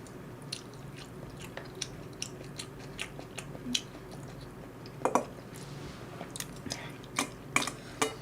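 Close, quiet chewing and biting of Nongshim Jjawang instant noodles, with soft wet squishes and scattered crunchy clicks spread irregularly through the meal, no talking.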